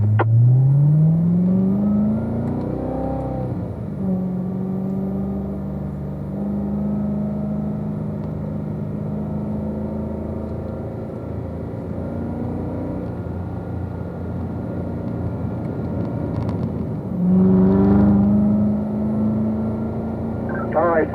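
A car drives a lap on a race track, its engine heard from inside rising in pitch through gears, holding a steady drone, then climbing again as it accelerates on the next stretch.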